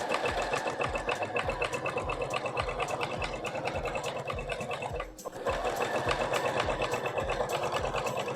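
A sewing machine runs a zigzag stitch around the collar of a sweater, with steady, rapid, close-up stitching and a brief pause midway before it resumes.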